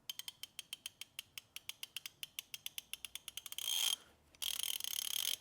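A Silverline ratchet with a fine 72-tooth mechanism ticks in a quick, even run of over twenty crisp close clicks, followed by two short bursts of rapid, buzzing clicking.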